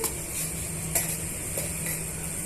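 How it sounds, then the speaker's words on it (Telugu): Fenugreek seeds and spices frying in a pan for pickle, giving a steady bright sizzle with a few faint scrapes and ticks of a spoon, close and even, no talking. "మెంతులను కూడా యాడ్ చేసుకొని ఇవన్నీ బాగా వేగనిద్దామండి"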